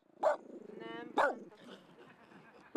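Dogs bark at a newly fenced neighbourhood dog park at the end of Homoktövis street, with three sharp close barks spaced about a second apart and a person talking in between.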